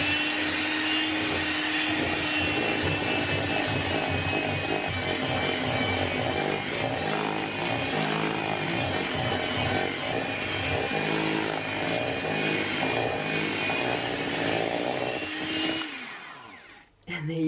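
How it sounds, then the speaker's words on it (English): An electric mixer whirs steadily and loudly, whisking chocolate mascarpone frosting for a four-ingredient dessert, running continuously before cutting off abruptly at the end, with a voice faintly under the motor. "We're going to whisk all of that in."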